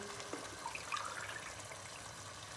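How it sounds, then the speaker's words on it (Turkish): Boiled water poured into a cooking pot while making a mixed oturtma stew, a steady soft trickling splash running throughout, fairly quiet with no talk. "Soğuk sudan sonra kaynayan su verebilirsiniz."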